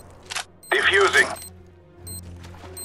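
A bomb being defused in Counter-Strike: Global Offensive: a short, loud burst of mechanical clicking and whirring with a rising electronic tone, set against quieter game ambience, with faint voices nearby.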